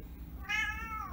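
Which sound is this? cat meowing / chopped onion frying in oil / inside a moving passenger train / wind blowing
cat meowing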